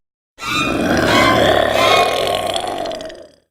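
A loud, guttural roar from a Boomer zombie in Left 4 Dead, one sustained raspy bellow lasting about three seconds before trailing off, heard alone.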